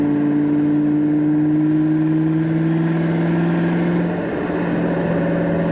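A 1998 Ford Mustang SVT Cobra cruising, its engine giving a steady, loud, smooth drone from inside the car that shifts pitch slightly near the end.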